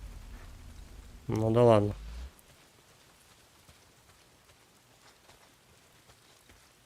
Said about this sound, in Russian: Дождь хлещет.